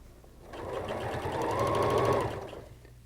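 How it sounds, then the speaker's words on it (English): A sewing machine stitches pieced quilt sections for a spinning diamonds quilt, running in one steady continuous burst that swells and fades, close and clear with no talking. "And sew to the end, and you should sew off right at a 1/4 of an inch at that valley."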